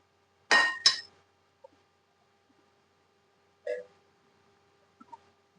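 A lid is set ajar on a pot of simmering kadhi, giving two quick metallic clinks close together, then a softer clink a few seconds later and a faint tap near the end, with quiet pauses between.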